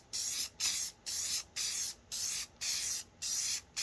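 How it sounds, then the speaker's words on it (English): An aerosol can sprays clear gloss polyurethane onto a wooden T-rex model, giving eight even, close hissing bursts separated by brief pauses. "So follow along with me as I add a couple coats of clear gloss polyurethane to this."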